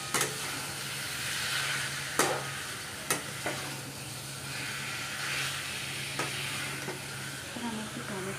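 Chicken sizzles steadily in a pan with cumin powder, a continuous frying hiss broken by a few sharp stirring scrapes and clinks of the utensil.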